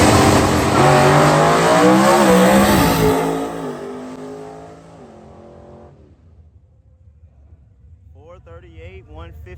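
A Pontiac Grand Am Mountain Motor Pro Stock drag race car roars loudly at launch, then fades quickly into the distance, leaving low crowd noise and a brief voice near the end.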